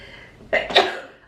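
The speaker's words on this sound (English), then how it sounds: "I'm gonna sneeze here." One sharp sneeze bursts out at close range from a quiet room, in two quick explosive parts, and then fades away.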